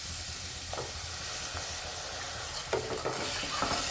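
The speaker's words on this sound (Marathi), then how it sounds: "आता आपण हे टोमॅटो टाकलेलं आहे ना, तर याला पण परतून घ्यायचं आहे चांगलं" Tomato paste and onions sautéing in a pan for chole masala, a constant hissing sizzle with occasional stirring scrapes, a cluster of them near the end, close and steady with no talking.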